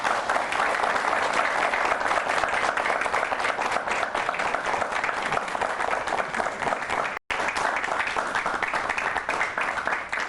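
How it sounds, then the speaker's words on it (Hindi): Thunderous audience applause for actor Pankaj Tripathi at a televised event, a dense, loud, continuous wash of clapping from a large crowd, broken only by a brief cut before resuming. "ये तालियों की गड़गड़ाहट बता रही है कि किस हद तक आप लोगों के दिल में उतर चुके हैं।"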